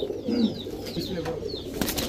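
Pakistani teddy pigeons coo in a few low, soft, throaty bursts up close, with light chirps and rustle around them and no talking.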